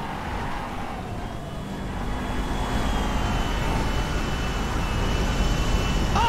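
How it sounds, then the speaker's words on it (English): An airplane roaring low over a runway in Grand Theft Auto V, a loud continuous engine rumble and whine that swells steadily as it nears, mixed with car noise. "The plane!"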